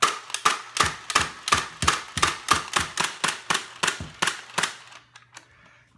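BOOMco Crank Force toy blaster firing darts in rapid succession: about sixteen sharp, loud snaps in an even, fast rhythm, close by and with no talking, then a stop.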